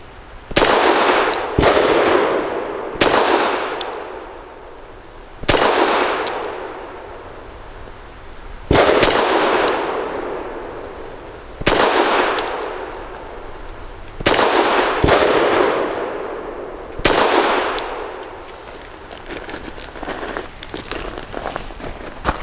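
A Grand Power P45L pistol fires a series of single shots at steel targets outdoors, about eight sharp reports spaced a couple of seconds apart, each followed by a ringing decay, loud and close with no talk.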